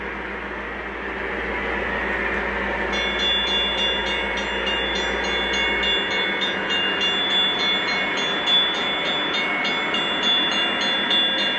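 O gauge model Conrail locomotive running along a layout track, a steady close whir and rumble with a faint electronic tone and rhythmic clicking joining partway through.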